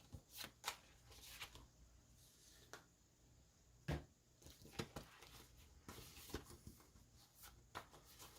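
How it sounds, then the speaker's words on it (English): Dry riffling and flicking of a tarot deck being shuffled, in short irregular bursts with sharp slaps between, fairly quiet and close. "I'm going to shuffle your deck 2 more times"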